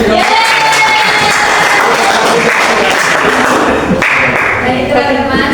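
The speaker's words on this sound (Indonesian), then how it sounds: "Mungkin kita bisa berikan tepuk tangan terlebih dahulu." A classroom of primary school pupils claps together during a science microteaching lesson, loud, close and continuous, with children's voices and cheering mixed in.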